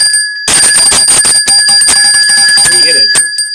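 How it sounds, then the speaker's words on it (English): A bicycle-style bell rings repeatedly in quick, loud dings during a live weather show broadcast, with cheering and talk overlapping the rings. "Okay, you can ring the bell, Joe."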